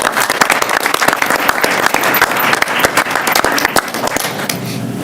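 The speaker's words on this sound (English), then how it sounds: "one last round of applause for all of our students" A Board of Education meeting audience gives a final round of applause for students, lively sustained clapping with distinct sharp claps close by, fading slightly at the end.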